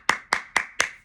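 Four crisp, close hand claps in an even, steady rhythm, each sharp and distinct with brief decay, alone without talk.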